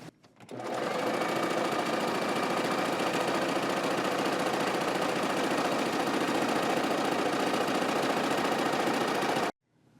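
A Brother coverstitch machine sews a chain stitch, its motor whirring in a loud, steady, rapid hum that starts abruptly, runs unbroken for about nine seconds, then cuts off.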